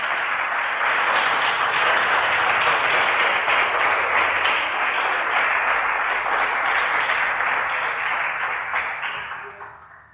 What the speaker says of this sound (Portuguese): Você pode aplaudir a Jesus por essa palavra?